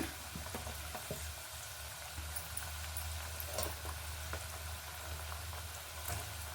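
Chakli dough frying in hot oil gives a steady, close sizzle with a dense spray of small crackles and pops running evenly throughout, with no talking.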